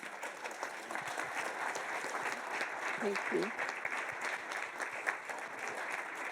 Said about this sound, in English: Can we have a big clap for them?